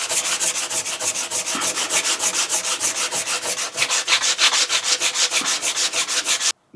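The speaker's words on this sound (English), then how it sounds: "excess off the top, and back to the sandpaper as we did before." Sandpaper worked by hand across a wooden cupboard door, with brisk, evenly paced back-and-forth rubbing strokes repeating rapidly and loudly up close for several seconds before stopping abruptly.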